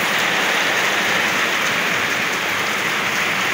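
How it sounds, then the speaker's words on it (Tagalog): Fairly heavy rain falls steadily, a dense, even hiss of drops pattering on surfaces nearby, with no breaks and no voices. "Medyo malakas ang ulan."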